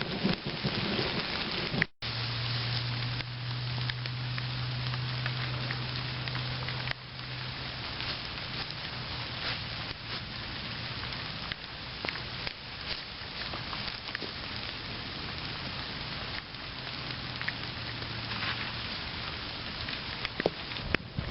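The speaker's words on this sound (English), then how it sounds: "And it sounds like that storm is settling in." Steady rain falls in a continuous hiss during a thunderstorm, with low thunder rumbling in the background throughout.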